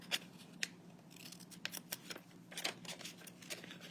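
Small scissors being handled while crafting a Christmas book, giving faint, quick metallic snips and clicks in short irregular bursts with no speech.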